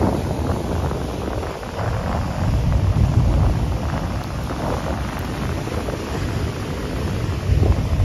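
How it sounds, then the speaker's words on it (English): Steady wind buffeting outdoors as Tropical Storm Fred passes, a continuous low rumbling roar with gusts swelling and easing, no voices. "See, now it's windy out."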